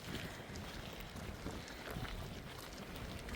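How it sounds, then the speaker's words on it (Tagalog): Strong wind roars continuously across the microphone, a dense, loud rumble with gusty swells and no voices. "Kaya ang lakas ng hangin."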